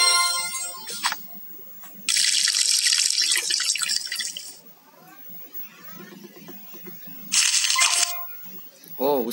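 In the Homescapes mobile game, splashing water fill effects play in bursts over a chime-like jingle, with a person talking between the sounds.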